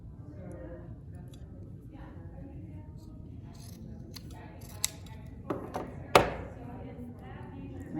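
Scissors snipping off thread ends at a sewing machine, a few sharp close cuts late in the stretch against a quiet room background.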